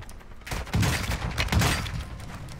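AK-74U gunfire in a video game, a dense burst of rapid automatic shots that is loud and close, with no talk.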